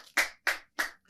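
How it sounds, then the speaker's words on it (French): Slow, evenly spaced hand claps for a guest on a French TV show, four sharp close claps with brief silences between them. "je vais d'ailleurs même commencer par l'applaudir"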